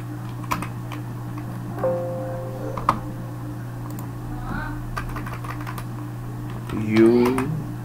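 Light tapping on a computer keyboard while typing in MS Word, sparse, fairly faint clicks over a steady low hum, with a few tonal electronic chirps in between.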